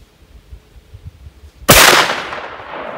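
A 32 gauge shotgun fires a single .510-caliber 275 grain hollow point slug at a range: one loud, close blast with a long ringing decay, after quiet handling noises.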